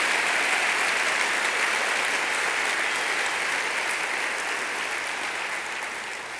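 A large audience at Long Beach's 2015 State of the City event applauds education leaders, including college presidents, with dense, sustained clapping that holds steady and then tapers slightly toward the end.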